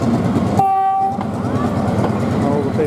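A train rolls across Nine Arches Bridge in Ella, Sri Lanka, with a steady loud rumble and clickety-clack, and a horn sounds briefly near the start.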